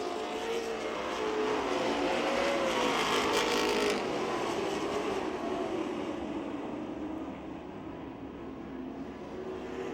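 Race cars roar around the Speedzone track three wide, a continuous, blended engine drone with a rising and falling pitch that swells and then slowly fades, heard at a distance with no talking.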